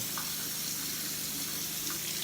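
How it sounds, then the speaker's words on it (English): Tap water runs steadily into a bathroom sink while it warms up, a continuous close splashing hiss that holds level from start to finish. "I'm just letting the water warm up my pipes a little bit."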